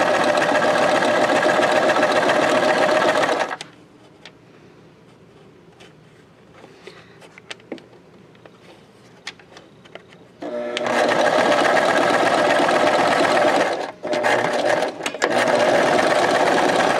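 A sewing machine runs in long, loud, steady bursts while stitching a linen pocket gusset, stopping for a quieter stretch of small handling noises before starting again with brief pauses.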